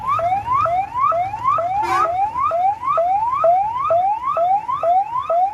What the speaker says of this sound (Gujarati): પાછળ એમ્બ્યુલન્સ છે પણ ટ્રાફિક છે અત્યારે બ્રિજ ઉપર